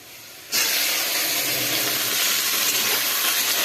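Bombay duck fish pieces go into hot oil with an abrupt, loud hissing sizzle that starts after a short pause and holds steady and close for the rest of the moment, without any speech.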